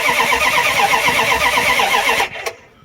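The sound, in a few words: Dodge Ram 318 V8 starter cranking engine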